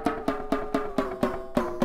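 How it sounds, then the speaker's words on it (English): A detuned drum rim in Groove Agent's vintage mode repeats in steady, evenly spaced hits. Each strike has a gritty, ringing aliasing buzz, loud and close with no talk. "That is all sorts of artifacts being introduced by the bitrate not being high enough to be able to handle that level of detune."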